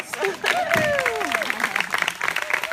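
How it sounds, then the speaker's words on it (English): Applause rises from a crowd at a school board campaign launch in Cambridge, a moderate clapping wash with cheering and whooping voices over it near the start. "So give yourself a hand of applause."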